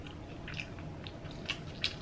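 Soft, close crunchy bites and moist chewing of a Korean corn dog, a few quiet crisp snaps over a low room hush.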